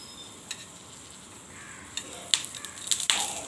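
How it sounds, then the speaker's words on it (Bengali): Jackfruit seeds fry in oil in a pan with a quiet, soft sizzle, broken by a few light clinks and scrapes of stirring toward the end. "কাঁঠালের দানাগুলো একটু ভেজে নেব।"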